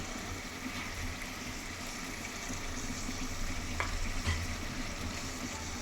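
Chicken being stirred in a pan with salt, chili and turmeric masala gives a steady, even sizzle and frying hiss with soft scraping, continuous and fairly close, with no talk.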